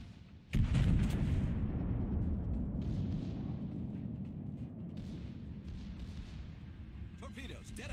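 A heavy naval gun salvo booms from a battleship in World of Warships, a sudden blast that rolls into a long, low rumbling decay with faint crackling toward the end.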